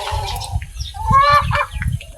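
Hens clucking close by, a few short throaty clucks with a rising call in the middle, amid a low rumbling background.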